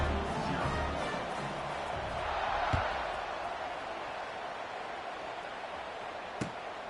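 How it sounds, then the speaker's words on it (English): Broad, steady murmur of a large stadium football crowd after a 75-yard scoring drive, held at an even level with a sharp thud near the end. "this crowd is buzzing after that last score"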